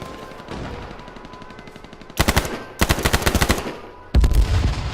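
Video game firefight with bursts of rapid automatic gunfire, loud close rattling volleys in quick succession over a constant low background.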